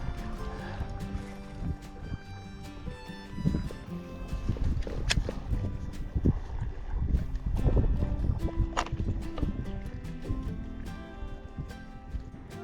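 Wind gusting over Elephant Butte Lake around a fishing boat, a steady low rumble and buffeting that swells and eases, with water slapping and faint knocks against the hull.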